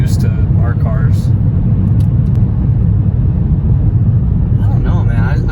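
Steady low rumble of tires and engine inside a moving car, constant and fairly loud, with people talking briefly over it at the start and end.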